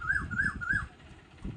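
A koel and other birds call outdoors: three evenly spaced, rising-and-falling calls repeat close by over a soft, busy background of chirps.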